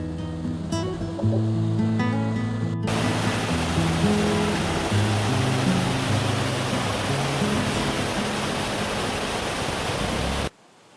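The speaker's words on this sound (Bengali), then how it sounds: "ঝর্ণার এত আওয়াজ, মানে বিশাল আওয়াজ" A monsoon-swollen waterfall in the Darjeeling hills roars as a loud, steady wash of rushing water, close and unbroken, after a brief softer opening, with no voices.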